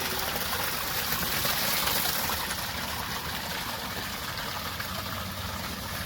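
Dirty water extracted from carpet cleaning pours out steadily, a continuous close splashing rush with a low motor-like hum underneath and no talk.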